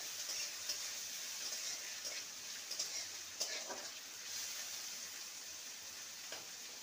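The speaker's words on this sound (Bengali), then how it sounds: "পেঁয়াজটাকে হালকা ভেজে নেব।" Chopped medium onion frying lightly in a pan, a steady faint sizzle with occasional soft stirring scrapes, close and alone.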